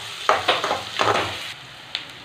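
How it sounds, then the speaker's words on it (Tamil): Onions and green chilies sauté in hot oil toward golden brown, a close sizzle broken by a few distinct stirring scrapes and bursts of crackle. "வெங்காயம் நல்லா கோல்டன் ப்ரௌன் வர வரைக்கும் நல்லா வதக்கிக்கோங்க,"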